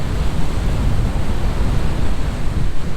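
Small ocean waves washing onto a sandy beach in Danang, Vietnam, with surfers out; a steady, continuous broadband wash of surf with gentle swells and some wind, no voices.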